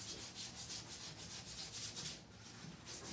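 Coarse-grit sandpaper rubs rhythmically across the wooden edges of a vintage reindeer decoration, quiet close back-and-forth scratchy strokes with no talking.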